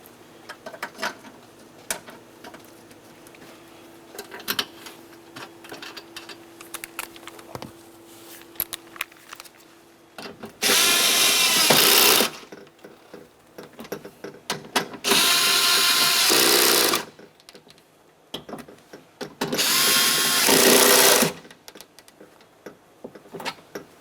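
A power tool snugs the window motor mounting bolts inside the door of a Nissan Versa. Three loud, steady bursts of whirring drive, each a couple of seconds long, are separated by quieter clicks and ratcheting handling noises.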